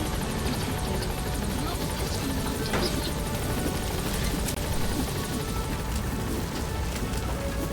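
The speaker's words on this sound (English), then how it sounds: "Helicopter has arrived." A helicopter arrives in Metal Gear Solid V, its rotor and engine roar holding steady and loud throughout with a dense, constant wash of noise.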